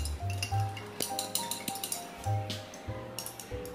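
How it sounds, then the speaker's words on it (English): A glass rod stirs in a glass boiling tube, giving repeated light clinks and pings in an uneven rhythm. The sound is close and fairly quiet, with brief low hums between strikes. "Glass rod to mix it well."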